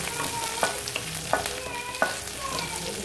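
Onion sautéing in a pan hisses continuously up close, punctuated by three evenly spaced clinks and scrapes of a stirring spoon, with no one speaking.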